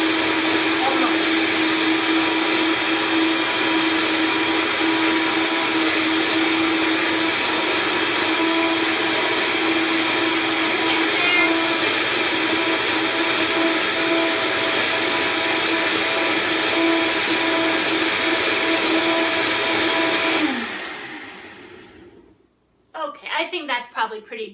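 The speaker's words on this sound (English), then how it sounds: "I actually like to do it till just when it starts to feel a little warm on the base of this high-powered blender." High-powered blender pulverising almonds with water for almond milk, a loud steady roar with a high motor whine held for about twenty seconds before cutting off, followed by brief clatter.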